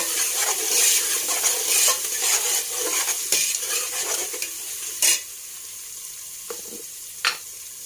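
Steady crackling sizzle of garlic ginger paste frying in a hot pan, with occasional scrapes and stirring clinks, close by and continuous.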